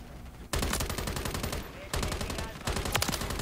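Rapid automatic gunfire in the shooter game Call of Duty MW3, three loud sustained bursts separated by brief pauses.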